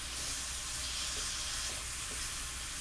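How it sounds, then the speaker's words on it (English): Cabbage fries in rendered bacon fat with a steady, close hiss of sizzling oil and faint stirring, and no voices. "we're going to use the oil that the bacon produced to fry our fried cabbage"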